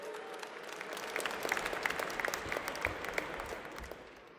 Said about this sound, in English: Can everyone join me in another round of applause for all the amazing and beautiful performers we've seen?